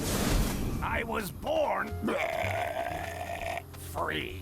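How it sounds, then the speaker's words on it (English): A voice actor's long, drawn-out, gurgling burp in a video game, close and fairly loud, preceded by a short spoken line. "Not the best burp sound that a voice actor has ever produced"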